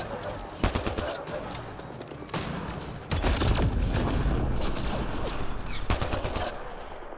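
Gunfire in Mass Effect Andromeda, bursts of rapid weapon shots and booms in several loud clusters with constant combat noise between them, close and intense.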